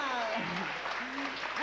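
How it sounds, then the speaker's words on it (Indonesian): Studio audience applause for contest winners on a 1987 Hari Raya television show, steady crowd clapping heard under a voice that talks over it throughout. "Satu tepukan untuk Chong dan Jamal."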